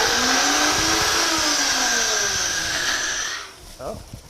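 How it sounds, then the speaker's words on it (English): A blender whirs loudly and steadily while blending avocado salad dressing, a high motor whine that runs for about three seconds and then stops, with a voice speaking just after. "And then we run our blender."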